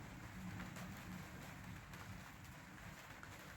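Steady rain falls outside a cabin on a wet day, a faint, even hiss of drops pattering on surfaces with occasional soft ticks, continuous and distant-sounding with no voices.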